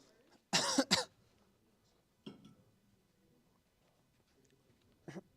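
A couple of sharp coughs close by, followed by quieter throat-clearing bursts spaced apart in near silence.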